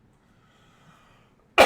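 A single person's cough, a short loud burst near the mic at the very end, following a quiet, nearly silent stretch with faint background hum.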